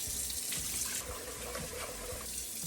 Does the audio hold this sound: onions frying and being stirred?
no